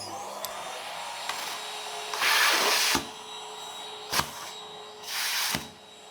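An American Micronic vacuum cleaner runs on its minimum suction setting, a moderate whirring hum broken by a few short louder bursts of airflow, with no voices.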